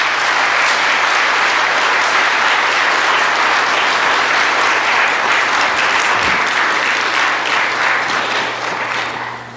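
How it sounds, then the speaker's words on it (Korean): A church congregation applauding during a Sunday worship service, loud dense clapping from many hands that holds steady throughout and eases slightly at the end. "큰 박수로 한번 축복했으면 좋겠습니다"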